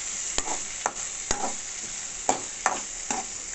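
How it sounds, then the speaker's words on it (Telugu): Onions fried in a pan for a buttermilk curry, with a steady sizzle and several sharp stirring scrapes at irregular intervals, heard up close with no talking. "ఇలా వేయించుకుంటున్నాను నేను."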